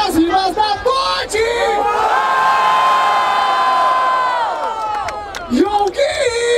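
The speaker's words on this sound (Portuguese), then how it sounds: "Barulho para as rimas da Todd" A crowd at a Brazilian rap battle, the Batalha da Aldeia in Barueri, roars with sustained cheering and shouting that swells in the middle, with voices calling out over the noise.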